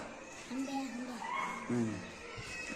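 A young voice imitates a dog with a few short, whiny bark-like yips, close and fairly quiet, with an adult voice nearby.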